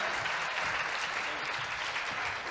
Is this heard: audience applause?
yes